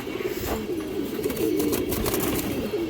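Pigeons of the Dragon line breed coo continuously in a low, rolling murmur at close range, with faint higher rustles and clicks from the loft.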